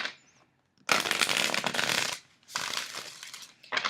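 A thick-cardstock tarot deck is shuffled in two long bursts of dense, crisp card riffling, close and fairly loud, with a brief pause between and a third burst starting at the end.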